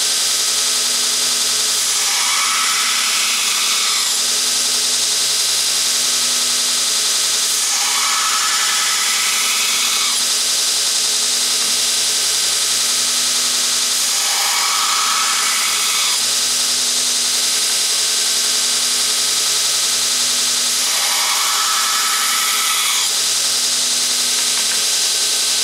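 A power grinder works a blade bevel under heavy pressure, a steady high-pitched whine with four recurring swells as the edge is dragged across the wheel, loud and continuous without talk.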